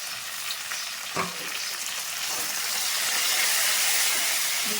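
Curry leaves and coriander frying in a pan with onions and green chillies, a steady broadband sizzle that swells louder toward the end, with a brief stir or clink near the start.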